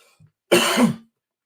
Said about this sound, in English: I'm coughing, can barely finish